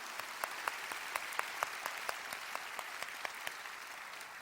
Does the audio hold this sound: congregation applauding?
yes